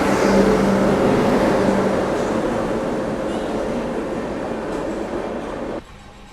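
Mysore–Thoothukudi Express arriving at Salem station, a loud rumbling pass of rail cars with a low hum and faint clatter that gradually eases, then drops off abruptly near the end.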